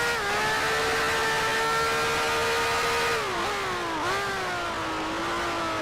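A 1965 Formula One racing car engine in the GPL racing game holds a high, steady whining rev with strong harmonics, dipping briefly twice before settling slightly lower, loud and close with no voices.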